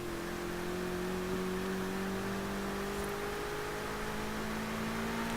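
A car engine drones steadily while driving in Forza Horizon 3, a sustained mid-pitched hum with a slowly rising tone, close and continuous with no talk.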